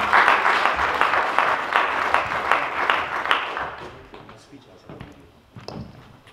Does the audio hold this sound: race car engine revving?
no